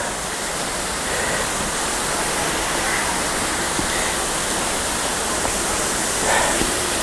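Banyumala waterfall in Bali roars as a dense, steady rush of falling water, loud and close, unbroken from start to end.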